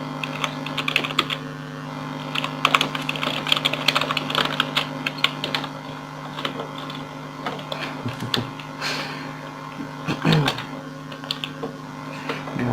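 Steady, rapid typing on a computer keyboard during a Pixel Warfare gaming session, with dense close-up key clatter running throughout over a low background hum.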